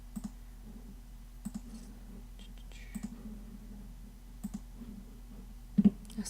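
A computer mouse clicks on a toolbar icon, single crisp clicks spaced out every second or so, ending in a quick double click, close and quiet over a low steady hum, with no talking.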